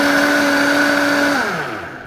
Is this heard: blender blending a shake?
yes